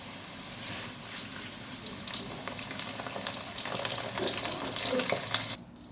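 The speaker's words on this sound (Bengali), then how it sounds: "এই তেলে আমি সমস্ত সবজি অল্প অল্প করে ভেজে নেব।" Steady crackling sizzle of vegetables frying in hot oil, with faint scraping and stirring throughout, close by and fairly quiet.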